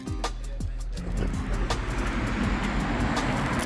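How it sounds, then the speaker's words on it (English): A Mazda 3 engine rumbles close by and grows steadier as the car rolls up and settles at a shop, with a soft broadband road hiss throughout. "And there goes the car pulling up."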